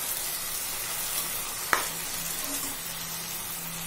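Okra masala sizzles steadily in a pan as tamarind juice is stirred in, with a brief clink of a spoon against the pan partway through.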